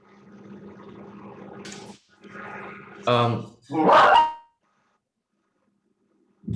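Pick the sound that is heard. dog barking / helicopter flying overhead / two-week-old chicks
dog barking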